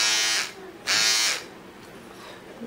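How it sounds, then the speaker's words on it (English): A small battery-powered sideburn trimmer buzzes close by in two short bursts, each about half a second long, with a quieter pause between them and a faint hum after the second burst. "I think this is a sideburn trimmer."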